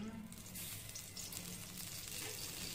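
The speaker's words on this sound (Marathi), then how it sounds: "हा आता आपण आता तेल टाकू" Oil sizzling in a pan on the stove: a loud, dense, continuous hiss and frying crackle with no talking.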